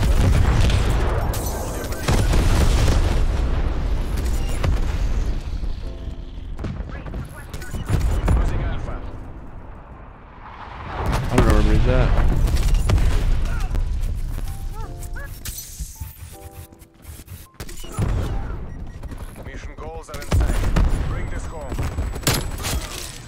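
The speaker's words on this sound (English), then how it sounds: "Enemy napalm strike incoming." Napalm strike explosions in Call of Duty Cold War multiplayer: repeated heavy booms and crackling bursts rolling over one another, loud and close, with gunfire mixed in.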